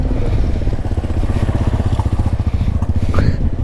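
Motorcycle engine labouring steadily up a muddy mountain trail toward Mount Kulis, a continuous close rumble with rough pulsing and some clatter, while voices talk over it.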